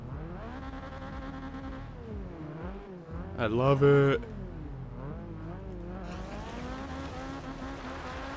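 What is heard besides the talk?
Subaru BRZ drift car engine in Forza Horizon 2 video game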